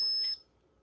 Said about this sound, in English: It has to be something close to it to set the alarm off.